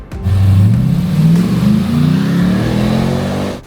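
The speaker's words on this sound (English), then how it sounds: "Under the hood, a GM LS 3V8 delivers raw American muscle." A restored Land Rover Defender 110 with a GM LS3 V8 and a six-speed automatic revs up close by, a deep throaty engine note that rises and holds steady for a few seconds before cutting off.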